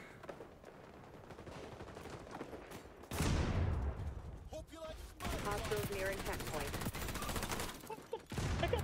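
Video game gunfire starts as rapid automatic bursts, loud and dense, after a quieter opening. The shots come in clustered volleys with brief pauses, over a faint background.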